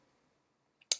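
A single crisp mouse click on a Mac OS X menu bar, short and close in near silence, preceded by a faint tiny tick.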